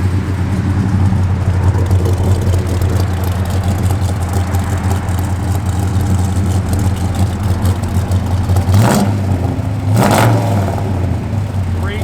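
A 1969 Plymouth Road Runner with Dynomax dual exhaust and chrome tips rumbles at a loud, close idle, then gets blipped twice in quick throttle bursts near the end.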